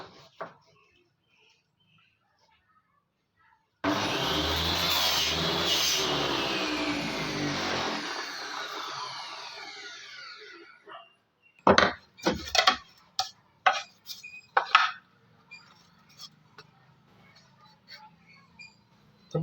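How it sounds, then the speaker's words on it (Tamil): A homemade table saw cuts crosswise through a small piece of wood, making a loud, steady whirring buzz for about six seconds that slowly fades. A run of sharp clicks and knocks follows. "சின்ன பீஸ் எடுத்திருக்கேன். இதை குறுக்கால கட் பண்ணணும்."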